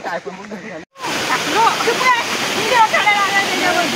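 A waterfall on a monsoon trek in Sanjay Gandhi National Park, Mumbai, roars as a steady, close rush of water. Voices talk over it throughout, and there is a brief gap near the start.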